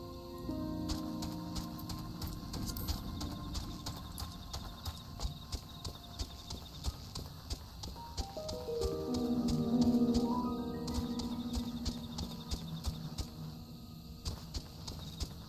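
Hooves of the mount Lucy clip-clopping in Final Fantasy XIV Dawntrail, a steady rhythmic walking gait over game music and ambience with no talk.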